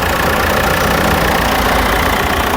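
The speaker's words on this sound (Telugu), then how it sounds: "ఇంజన్ మాత్రం పర్ఫెక్ట్ అండి చాలా సైలెంట్ ఉంది" A 2015/16 Ford EcoSport Trend Plus diesel engine idles steadily and loudly up close, a continuous even rumble with no talk over it.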